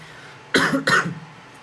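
Two quick, harsh coughs in close succession, loud and near, with only faint background noise around them.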